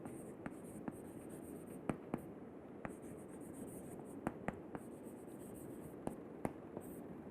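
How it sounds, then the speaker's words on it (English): Marker or chalk writing on a board in a lecture room, soft scratchy strokes broken by sharp taps, close and faint over a steady hum, with no one talking. "let me write it a little"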